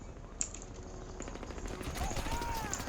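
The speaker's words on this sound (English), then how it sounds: "this is the heavy machine gun HMG, and it's a really awesome machine gun when it comes to the power and the damage" Heavy machine gun fire in Crysis 2, a rapid run of sharp shots with mechanical rattle, fairly steady and moderately loud across the stretch.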